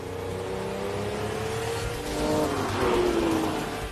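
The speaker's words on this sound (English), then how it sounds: "when you unleashed its 5-litre V12" A Lamborghini's 5-litre V12 engine revs up, a loud sustained roar that swells and climbs in pitch over a few seconds, with no talk.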